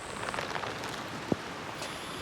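Steady rain falling outdoors in rural Thailand, a dense even hiss of drops on surfaces with a brief single tap, moderately quiet and with no voices.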